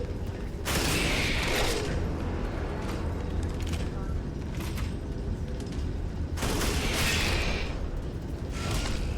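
Gunfire in a video game rings out in two long broadband bursts of rapid shots, a few seconds apart, with people talking over the action.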